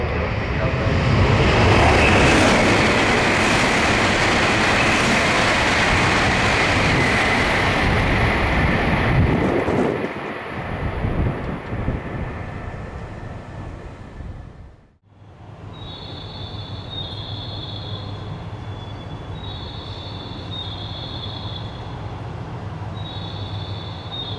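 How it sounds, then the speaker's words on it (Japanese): A loud rushing roar of a Hokuriku Shinkansen bullet train passing through a station without stopping fills the first ten seconds, then fades to quiet station ambience with faint electronic chimes. "11番乗り場を列車が通過します。"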